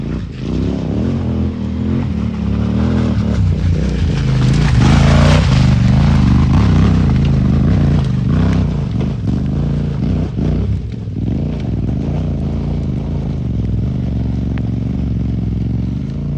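A big BMW GS motorcycle climbs a steep dirt hill, its engine roaring loud and close with throttle surges and labouring revs, plus clattering and scraping from the rough ground.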